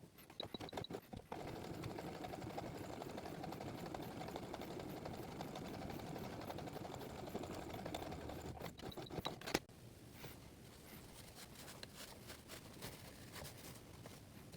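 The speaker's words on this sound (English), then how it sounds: "I'm going to sew right across here to add a pipe cleaner" A sewing machine stitches across a fabric face mask to secure a pipe cleaner at the nose, a soft rapid mechanical whirr running for about nine seconds before dropping to quiet room noise.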